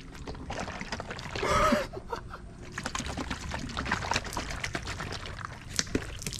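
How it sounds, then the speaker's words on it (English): Water splashes and trickles out of a Nissan Gloria's taillight in a brief gush, followed by lighter dribbling and scattered clicks and handling noises. "Oh, this taillight is just leaking water out."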